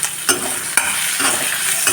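Sliced onion, ginger and green chilli sauté in hot coconut oil with popped mustard seeds, giving a steady close sizzle broken by a few scraping stirs.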